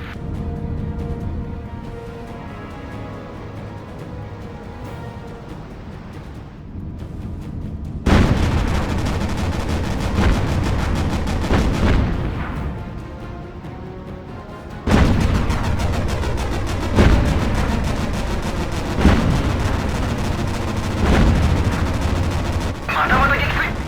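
Repeated explosions and gunfire from a naval air battle against an enemy carrier in the Battlestations Pacific video game, loud and dense throughout, with big bursts near 8 and 15 seconds, under a game soundtrack and spoken voices.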